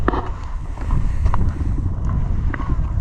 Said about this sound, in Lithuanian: Vėjas tai žiaurus.